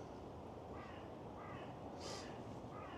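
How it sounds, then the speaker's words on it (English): A crow caws a few times from a distance in open woodland, harsh calls rising over a steady outdoor background hiss. "Oh, that's a crow."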